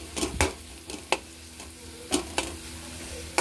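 Fried bitter gourd stirred in hot oil with turmeric and masala powder: a soft continuous sizzle broken by several sharp spoon scrapes and taps against the pan at irregular intervals.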